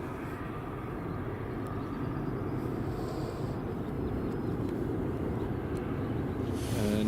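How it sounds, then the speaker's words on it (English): An EasyJet Airbus A320 on approach to land at Edinburgh Airport makes a faint, steady jet rumble that swells slightly toward the end, distant, with no talk. "Airbus A320 coming in."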